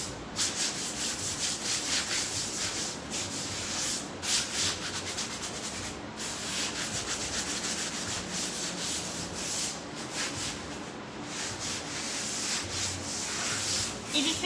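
Sanding by hand to smooth a painted grunge finish on a wooden sideboard, a steady close rubbing scrape repeated in even strokes throughout, with brief pauses between passes.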